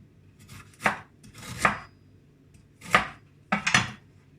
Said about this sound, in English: You chop up your garlic.